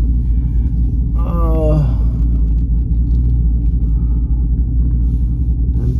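Jeep SRT with a 6.4L 392 HEMI V8 cruising on a ride-along, its steady low engine rumble filling the cabin throughout, with a brief rising whine early on.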